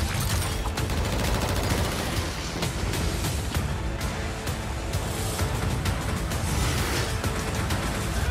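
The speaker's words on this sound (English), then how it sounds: "Somebody put this wonder weapon to work." Wonder weapon in Call of Duty Cold War Zombies (Forsaken DLC) firing in a sustained, loud barrage of rapid shots and blasts, dense and continuous with no pauses, no talking over it.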